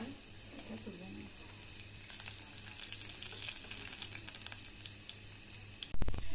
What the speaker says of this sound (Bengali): এইভাবেই সব ফুলুরিগুলো আমি ভেজে নেব।